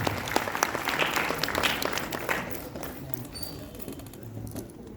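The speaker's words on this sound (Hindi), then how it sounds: "मैं चाहूंगा जोरदार तालियों से आप उनका अभिनंदन करें" Audience applause at a retirement ceremony, a fairly loud, dense burst of many people clapping that thins toward the end, with faint background noise.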